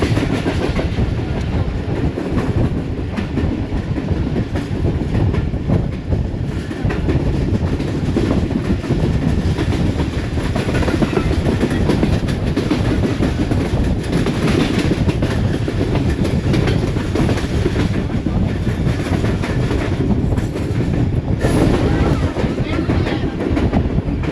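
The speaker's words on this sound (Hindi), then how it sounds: "ट्रेन हमारी तो मंदरा रेलवे स्टेशन से पास थ्रू हो रही है" A Subak Raftar railcar train runs through Mandra railway station with a steady, loud rumble and rattle of wheels on track, continuous and close, heard from on board.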